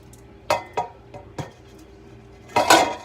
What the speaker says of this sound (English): I'm just scraping the sauce into the pasta